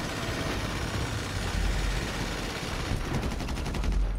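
Rapid, continuous gunfire from a GTA match fills the whole stretch, dense and loud, with engine-like rumble mixed underneath and no talking.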